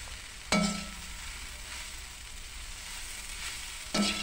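Dried jute leaves fry with onion and garlic in oil, a steady soft sizzle broken by two sharp scrapes of a spatula stirring the pan.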